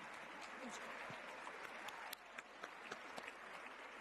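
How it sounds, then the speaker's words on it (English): A large crowd at an awards luncheon applauds steadily in a dense, sustained wash of clapping, fairly distant and even throughout, with a few louder claps popping out. "Martha, I just want you to soak in this applause"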